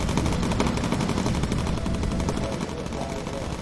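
Dense, continuous machine-gun fire from bomber turrets in the Bomber Crew video game, a loud rattling barrage of rapid shots that runs without a break for the whole stretch.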